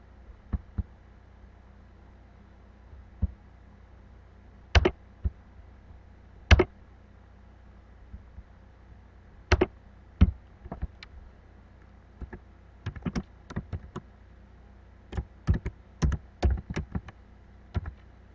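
Typing on a computer keyboard in a Windows 7 command prompt while compiling a Java program: scattered sharp key clicks, single and in quick clusters, close and fairly loud over a faint steady hum, with no talking.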